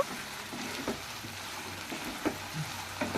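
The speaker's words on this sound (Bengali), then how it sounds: "দেখুন এইভাবে খুব ভালো করে নাড়াচাড়া করে নিতে হবে" Coriander chicken sizzling in a pan while being stirred, a steady soft frying hiss with occasional spoon scrapes and taps, close and moderately quiet, no talking.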